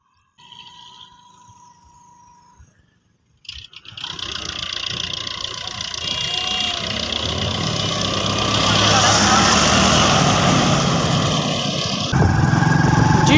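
A Toyota Prado driving through the hot sandy Cholistan desert at midday, its engine starting up after a brief pause and rising to a steady loud drone with road and wind noise, while someone talks over it.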